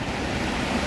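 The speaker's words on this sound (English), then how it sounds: "these are the waterfalls here" Loud waterfalls at Ohrid, Macedonia, give a dense, close, unbroken roar of rushing water in a very brief burst.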